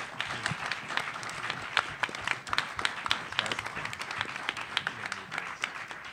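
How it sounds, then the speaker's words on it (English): An audience at a Dark Horse comic convention panel at ECCC 2014 claps steadily, a dense patter of many hands at moderate distance that holds for several seconds with no talking over it. "how about a round of applause for all these guys up here?"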